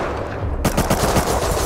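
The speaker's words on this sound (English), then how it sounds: "Oh, you're shooting me." Rapid automatic gunfire in the Rust video game bursts in after a brief lull, a fast close-up rattle of shots at an even rhythm, loud and dense.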